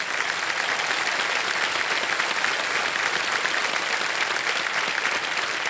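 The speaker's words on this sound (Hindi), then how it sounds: "तालियां बजाइए" Steady, dense studio audience applause on a television quiz show as a prize cheque is handed over, continuous and even throughout with no break.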